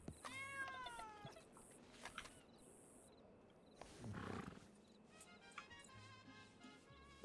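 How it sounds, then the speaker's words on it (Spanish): A cat meows in the Red Dead Redemption 2 video game, a clear rising mew near the start followed by a few softer calls, over quiet game ambience with occasional thuds and a brief rustle. "Ay, un gatito."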